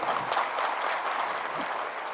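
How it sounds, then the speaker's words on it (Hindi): An audience at a government appointment-letter ceremony claps loudly, a steady wash of applause holding at an even level for about two seconds with no talk over it. "जोरदार ताली"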